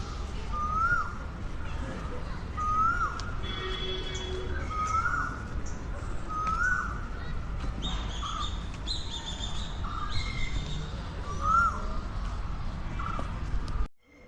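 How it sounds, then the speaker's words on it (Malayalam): Repeated whistling bird calls ring out at regular intervals in the bird area of Thiruvananthapuram Zoo, over a constant hum of background noise, with other chirps scattered around them. "പക്ഷികളുടെ ഏരിയയാണ് അതുകൊണ്ട് തന്നെയാണ് ഇവിടെ പക്ഷികളുടെ ശബ്ദം കേൾക്കുന്നത്"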